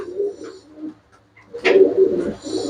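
Pigeons coo in low, throaty bursts close by, a short call early on and a louder, fuller run of coos after a brief pause.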